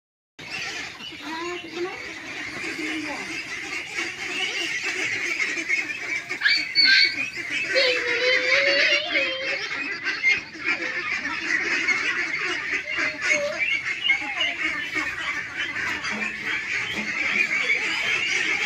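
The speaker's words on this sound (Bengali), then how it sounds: "আপনার হাঁস তো মাসাল্লাহ সুন্দরভাবে ঘরে চলে যায় একদম" Ducks on a duck farm in Kaliakair, Gazipur, raise a dense, continuous chorus of nasal honking and quacking that runs through the whole stretch, with individual calls rising out of the flock noise.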